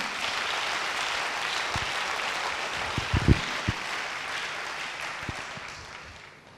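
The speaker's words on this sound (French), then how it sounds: "Acclame, acclame, acclame, acclame." Church congregation applauding during a sermon, a steady wash of clapping that fills the room with a few sharper claps standing out, fading gradually toward the end.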